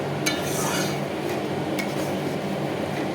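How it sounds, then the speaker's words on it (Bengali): A spoon stirs oats khichdi in a cooking pot, with a few faint metallic clinks over a steady low background hum and no talking. "আর তারপর কন্টিনিউ নাড়াতে থাকবো।"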